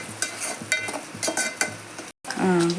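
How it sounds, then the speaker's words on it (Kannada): Ingredients for pasta frying in oil, an up-close sizzle with repeated clinks and scrapes of a spoon stirring the pan, a brief cut to silence, then a louder burst of frying with a faint tone. "ಈ ಥರ ಎಲ್ಲ ಎಣ್ಣೆ ಒಳಗೆ ಫ್ರೈ ಮಾಡ್ಕೊಬೇಕು"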